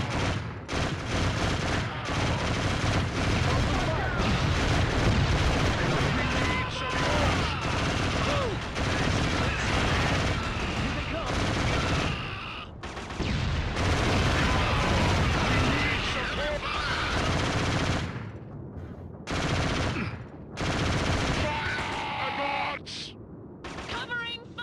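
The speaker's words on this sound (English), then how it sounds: "This is the most inaccurate machine gun I've ever seen in my life." A machine gun firing in a first-person shooter: dense, sustained bursts of loud gunfire and booming blasts overlapping with shouting voices, dropping into brief gaps near the end before more shots.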